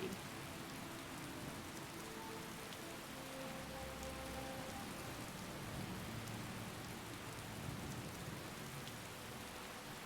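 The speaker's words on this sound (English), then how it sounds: "It's raining." Steady rain falls throughout in Skyrim, a heavily modded game, forming an even, continuous hiss with faint low rumbles beneath and no voices.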